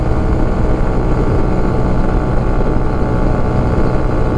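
A CF Moto Papio motorcycle engine pulls steadily in sixth gear up a hill on a windy top-speed run, with a loud, continuous drone and rush of wind close to the microphone.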